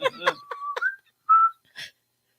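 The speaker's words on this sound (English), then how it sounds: "Was that a whistle?" A short human whistle on a morning radio show, a few brief tones with a sustained note and a rising chirp, close and clear, with breathy sounds around it.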